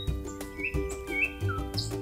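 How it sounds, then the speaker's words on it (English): Nightingale singing, a short run of bright chirps and whistled notes in quick succession over a steady tonal background, fairly close and clear with no voices. "As in nightingale."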